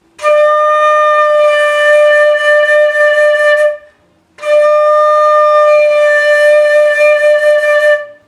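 Two sustained flute notes played with relaxed lips for a slightly lower pitch, each held for several seconds with a short breath gap between them, close and clear with a soft, mellow tone.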